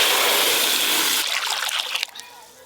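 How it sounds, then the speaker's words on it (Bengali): Water poured into a kadai for cooking prawn bati chorchori, a loud rushing pour for about a second that drops to splashes and a fading trickle. "এবার চিংড়ি মাছের বাটি চচ্চড়ির জন্য কড়াতে জল দেব।"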